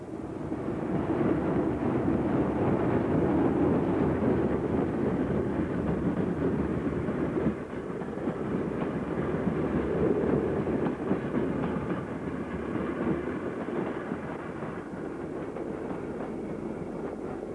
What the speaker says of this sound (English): EM1 hauls such a working which utilised the GWR Society's rake of vintage carriages, seen here passing Crowden.